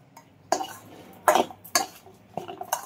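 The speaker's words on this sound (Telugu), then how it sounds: "చూసారుగా కలపడం ఎంత ఈజీగా కలుపుకోవచ్చో" A raw mango pickle with fenugreek and mustard being mixed in a pot, with a few distinct scraping clatters of a spoon against the metal spaced irregularly, close and moderately loud, no speech.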